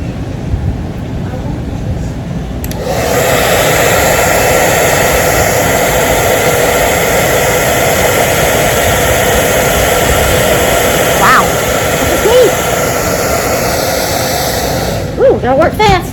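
A heat tool blows a steady, loud broadband hiss onto hardened glue while refinishing a French vanity, running continuously for most of the stretch after a quiet start, with a few faint clicks near the end.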